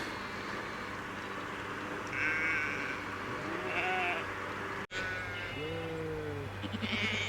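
Recently shorn sheep bleat on an open fell in Cumbria's Lake District under steady wind noise, several calls spread through the clip, with one loud, close bleat near the end and fainter ones farther off.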